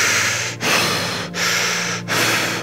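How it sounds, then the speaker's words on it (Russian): Deep, fast, rasping breaths from a person in a guided meditation, loud and close, each long breath in or out broken by brief pauses about every three-quarters of a second. "позвольте вашему дыханию перейти на глубокие и быстрые вдохи и выдохи"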